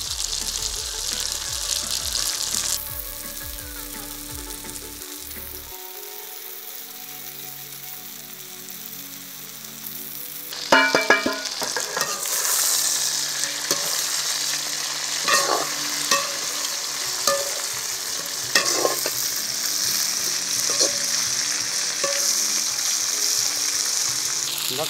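Fish frying in a pan for a brinjal curry, loud hissing sizzle taking over midway, with scraping stirring strokes and clinks on top of the steady sizzle.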